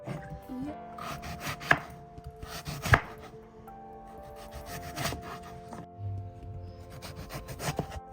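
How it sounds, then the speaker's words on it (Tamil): A hand peeler scrapes the skin off a bottle gourd in short, close rasping strokes, with a couple of sharper knocks and quiet pauses between passes. "இப்படி எடுத்துகிட்டு சீவில் வச்சு இந்த சுரக்காயை நல்லா அழகாக அந்த தோலெல்லாம் சீவலாம்"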